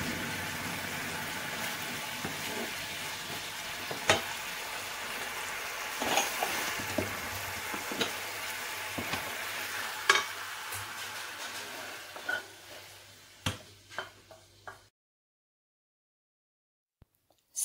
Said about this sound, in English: Then add on the sauce. Cook for 1 minute and the sauce is done.